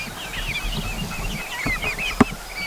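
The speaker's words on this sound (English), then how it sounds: "Next is the chickens." Chickens cluck and murmur softly close by in a small backyard flock, with a sharp knock near the end, over a low background rumble.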